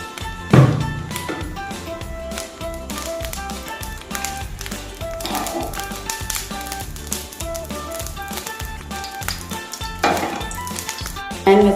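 Mustard seeds crackle in hot coconut oil in a pan as onion and green chilli go in to fry, with a steady sizzle, sharp taps and stirring clinks running throughout, along with faint background music.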